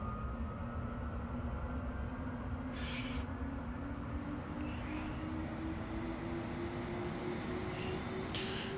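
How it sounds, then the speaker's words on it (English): A Carenado B200 King Air turboprop engine spools up during start in the MSFS 2024 simulator, a steady low rumble with a faint whine rising gradually in pitch throughout. "we're looking for the turbine, which is essentially N1, to get at least to 12"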